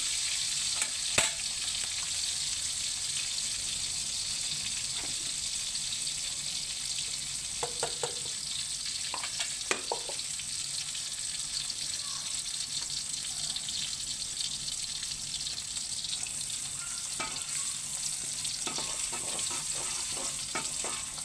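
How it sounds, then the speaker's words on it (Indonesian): Fried shallots for sambal sizzling in hot oil in a pan, a steady close hiss with occasional spatters and stirring clicks throughout. "untuk pembuatan sambal ini aku mulai dengan bawang merah goreng"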